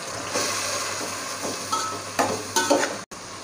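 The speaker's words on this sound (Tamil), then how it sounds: "தக்காளி ஆட் பண்ணி தக்காளியை நல்லா வதக்கிடுங்க." Tomatoes sautéing in a pan for country chicken biryani give an ongoing sizzle and hiss, with several clattering stirs and scrapes growing busier toward the end.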